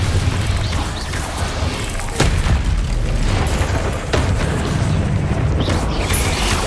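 Bombarda spell explosions in the Hogwarts Legacy video game burst loudly over a dense, continuous wash of game effects and rumble, with a few sharp blasts standing out.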